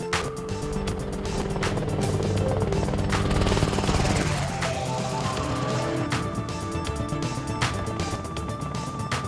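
A Rotorway Exec 90 kit helicopter flying, its steady rotor and engine roar continuous and fairly loud throughout with rhythmic blade chop, no voices.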